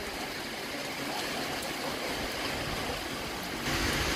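Steady, dense rain sweeps in over a hillside, a broad unbroken hiss that swells slightly louder near the end.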